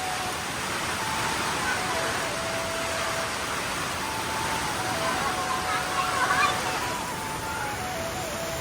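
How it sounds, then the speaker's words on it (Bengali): Heavy rain pours down in a strong storm over a poultry farm, a dense steady roar of falling water and wind that stays loud and continuous throughout. "দেখতে পাচ্ছেন কত আকারে ঝড় হচ্ছে, প্রচণ্ড বৃষ্টি"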